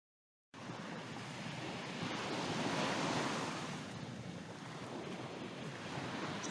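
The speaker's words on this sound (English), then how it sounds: "the waves move along." Ocean waves washing steadily at sea, a continuous broad rushing surf with gentle swells in loudness, mixed with wind noise, fairly faint and with no voices.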